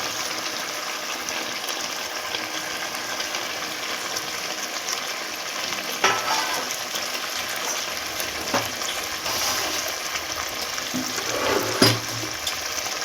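Potatoes and spices stirred in hot oil in a pan for chicken biryani, a steady sizzle and fry with occasional scraping stir clatters, close and continuous, no voices.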